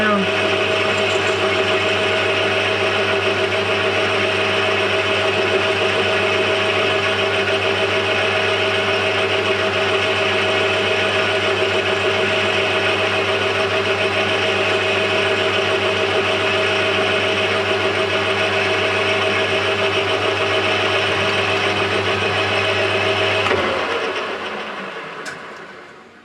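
A metal lathe runs steadily while cutting a chamfer on the end of a part for a portable light repair, a loud, even motor hum and whine that holds for over twenty seconds before spinning down.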